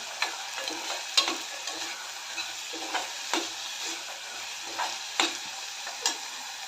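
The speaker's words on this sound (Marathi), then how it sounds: "हरभरे एक दोन मिनटं याच्यात यामध्ये परतून घेऊया" Chickpeas sauté in a pan with a soft, steady sizzle, broken by regular scraping taps and clicks from a stirring spoon; the sound is close and fairly quiet, with no voices.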